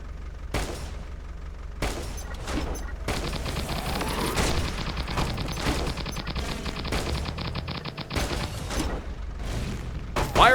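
A turret in the mobile shooter game Pixel Gun 3D fires in dense, continuous bursts of rapid gunfire with booming impacts, loud and close, broken by brief gaps between volleys.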